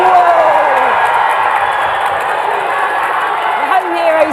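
Home crowd cheering at a FIFAe esports tournament in Riyadh, a loud continuous roar of an indoor audience under an excited commentator's voice that runs throughout.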